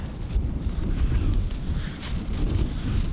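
Strong wind blowing outdoors in Japan, buffeting the microphone with loud continuous low rumbling gusts, no voices.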